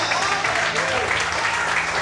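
A church congregation applauding to glorify God during a sermon, a dense, steady wash of many hands clapping loudly throughout with no gaps.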